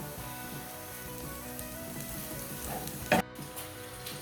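Onions frying in a pan, a steady soft sizzle and crackle throughout, with a brief sharp clatter near the end.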